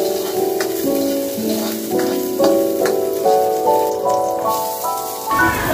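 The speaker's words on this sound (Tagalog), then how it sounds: "Maglagay ng konting mantika at haluin ang bawang." Garlic frying and sizzling in a little cooking oil while being stirred, a steady close crackle with spoon scrapes and clinks against the pan, no voices.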